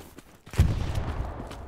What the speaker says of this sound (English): their artillery is like pummeling our outpost directly